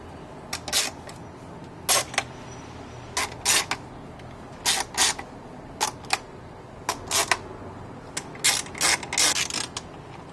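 Metal plates being lifted off a VCI-100 DJ controller after its screws are removed, producing a series of short sharp clicks and scraping knocks in irregular bursts, close up and quiet between handling sounds, with no talk.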